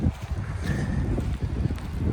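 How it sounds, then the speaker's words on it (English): Wind blows steadily outdoors in the Jim Thorpe historic district in Pennsylvania, a continuous low rumble buffeting the microphone up close, with no talking. "Wind is blowing."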